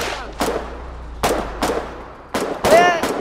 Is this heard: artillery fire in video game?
yes